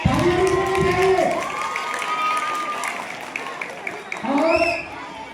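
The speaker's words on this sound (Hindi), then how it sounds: "जोरदार तालियां, तालियां भी होनी चाहिए।" Students at a 12th-grade school farewell clap, cheer and shout together in a lively crowd, with amplified talk over the noise that swells again toward the end.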